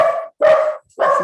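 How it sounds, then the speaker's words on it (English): Dogs bark loudly and close at hand, three sharp separate barks with short gaps, heard alone during an online zoning board meeting. "So please excuse my dogs."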